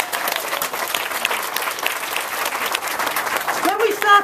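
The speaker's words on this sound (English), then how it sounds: "Let's give him another big round of applause." An audience at a community campaign event in Luton gives a sustained round of applause, dense and even clapping throughout, with a voice briefly heard near the end.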